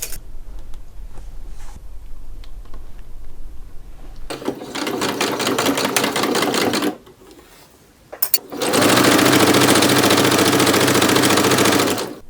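A sewing machine stitches fabric for a patchwork pillow in two loud, steady runs, the first lasting about three seconds and the second about four, with a short pause between them and quiet handling sounds before the first run.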